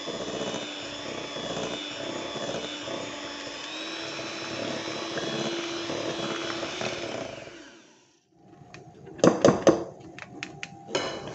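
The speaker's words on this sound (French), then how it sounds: "à l'aide d'un batteur électrique, fouetter 30 secondes à vitesse lente, puis 3 minutes à vitesse rapide pour obtenir un mélange crémeux" Electric hand mixer whisking lemon cake batter in a bowl, a steady loud whirring drone for about eight seconds that cuts off, followed by brief clattering and knocking of the beaters against the bowl.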